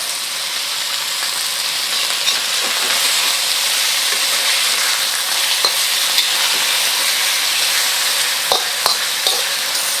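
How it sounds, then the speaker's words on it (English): Beef for beef with Chinese broccoli sears and stir-fries in a hot pan, a steady loud sizzle and crackle throughout with a few sharp scraping clicks of stirring near the end, no talk. "Let it sit to sear a bit before moving it around."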